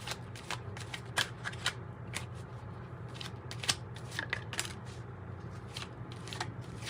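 An oracle and tarot card deck being shuffled close by, a run of quick crisp riffling flicks and slaps in uneven bursts over a soft steady background hum, with no talking.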